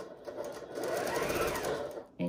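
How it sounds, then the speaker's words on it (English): A sewing machine stitches a quilt seam, its motor whirring steadily through a short forward run and a brief reverse, close and alone, ending with a small mechanical click. "I'm going to drop right down on that point with my needle. Go forward a couple. And go back a couple, but no more."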